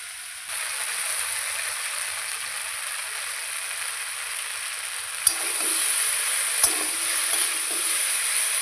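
Spicy spice paste hits fried potatoes in a hot pan and sets off a sudden, steady, loud sizzling hiss that continues evenly, with a couple of sharp clicks from stirring.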